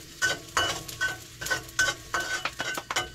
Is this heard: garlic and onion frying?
yes